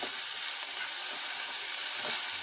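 Garlic and onion sizzling in hot oil, a loud, dense, steady hiss of frying heard close and continuous throughout, with no voices.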